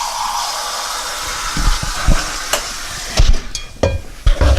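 Hot water poured into a pan holding creme brulee dishes sizzles loudly and close, a continuous hiss broken by sharp crackles, pops and a few clunks, with no talking.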